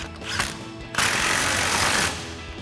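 A pneumatic impact wrench with a 21mm socket tightens a front strut bolt on a Sierra 1500, running in one loud, steady rattling burst of about a second before cutting off.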